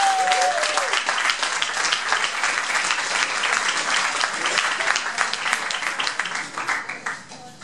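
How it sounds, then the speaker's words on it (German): An audience at an open-mic comedy show in Stuttgart breaks into dense, sustained applause that swells and then tapers off near the end, loud and full, with a brief voice at the start. "Applaus!"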